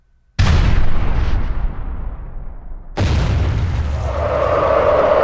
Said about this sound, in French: le chant matinal des oiseaux fut interrompu par un unique coup de canon